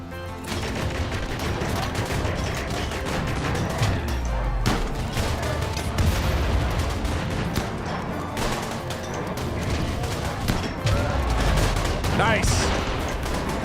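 Heavy ship cannons in a video game fire over and over, dense overlapping blasts and bursts that stay loud and close for the whole stretch.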